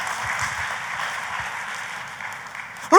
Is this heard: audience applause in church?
yes